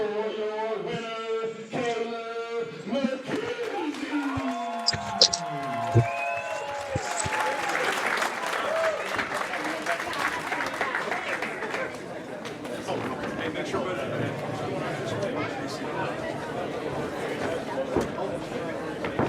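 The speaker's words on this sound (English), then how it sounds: "this is what gets the crowd going" Crowd at a boxing fight, Kalib McKenzie vs Seth Ousley, cheering and applauding after a first-round right hand, loud and sustained throughout, with a commentator's voice over the opening seconds and crowd chatter mixed in.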